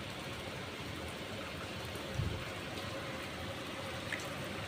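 Water spraying steadily from a hose onto flowers in a garden, a continuous hiss like light rain, close and even throughout with a brief louder splash midway.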